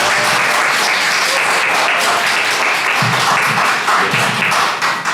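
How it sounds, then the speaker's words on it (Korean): Loud, close applause from an audience welcoming a lawmaker before a lecture at a political academy, with dense continuous clapping lasting several seconds before it trails off abruptly. "박수로 환영해 주십시오."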